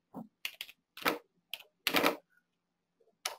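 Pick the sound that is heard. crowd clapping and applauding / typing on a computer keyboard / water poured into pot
typing on a computer keyboard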